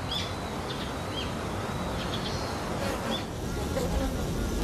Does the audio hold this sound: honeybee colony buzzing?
yes